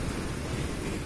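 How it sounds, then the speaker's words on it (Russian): Rough winter sea at the port of Alanya, Turkey, with waves surging in a steady, continuous wash of surf and some wind rumble, fairly soft and close, with no talking. "Смотрите, какие волны."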